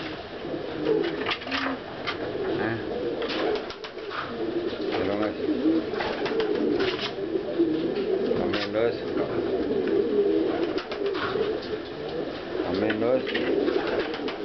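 Pigeons coo repeatedly at close range in a loft, soft throaty rolling calls overlapping one another, with someone speaking Spanish throughout and faint chirps in the background.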